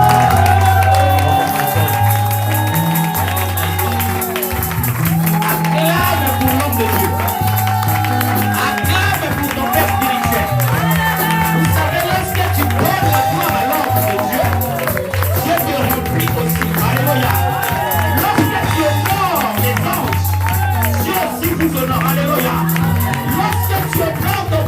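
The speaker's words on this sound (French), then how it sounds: "Tu acclames pour l'apôtre Michel Massieu." A church congregation cheering and acclaiming an apostle, with dense, sustained crowd noise, clapping and shouting under loud music and an amplified voice throughout.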